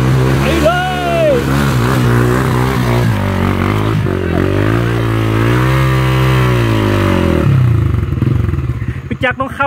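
An enduro motorcycle revving under heavy throttle as it climbs a slippery hill in Phayao, a loud close engine whose pitch rises and falls in long pulls. People talk and shout over it throughout.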